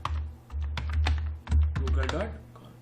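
A web address is typed on a computer keyboard, with quick, close key clicks in uneven bursts under someone speaking.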